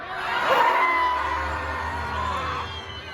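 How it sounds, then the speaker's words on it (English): A theater audience at the Monsters, Inc. Laugh Floor show at Magic Kingdom, Disney World, screams and cheers together in a sustained crowd roar that swells early and then holds steady. "And everyone would scream."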